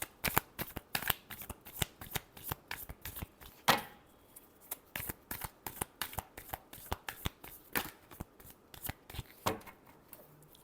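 Tarot cards being shuffled by hand in a run of crisp, rapid riffling bursts, each a sharp papery flutter, steady and close throughout with no talking.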